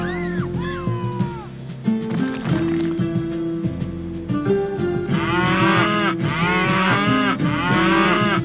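Cows moo repeatedly in the video game Tasty Planet: Back for Seconds, long, drawn-out lowing calls overlapping one another against a backdrop of game music.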